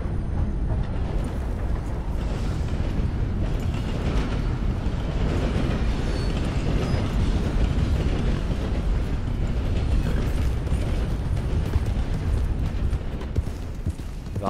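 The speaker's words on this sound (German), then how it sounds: "Ach, der ist in die andere Richtung unterwegs, der Zug." A steam-era train rolling past in Red Dead Redemption II, a steady dense rumble of wheels and carriage noise that holds at an even level throughout without talk.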